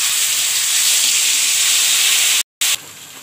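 Masala paste fries in hot oil with a loud, steady, bright hiss that holds evenly and then cuts off abruptly, with no talking.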